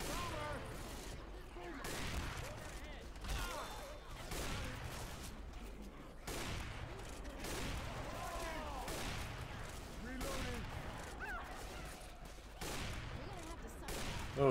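Rapid, dense bursts of gunfire in Left 4 Dead 2, played solo on Expert in The Parish campaign, crackle over a constant bed of game noise at steady loudness, with a voice talking faintly now and then.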